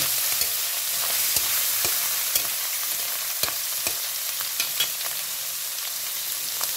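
Ground beef fries in a pan for spaghetti sauce, a continuous soft hiss of sizzling broken by sharp scattered pops and occasional stirring scrapes.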